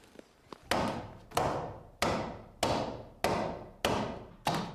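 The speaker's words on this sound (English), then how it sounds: "He is using a traditional axe to hew the shape out, which takes great skill." A traditional axe hewing a tar-rich pine plank into skis, with sharp, evenly spaced chopping strikes about every two-thirds of a second. Each blow is close and loud with a short ringing decay, and two lighter taps come before them.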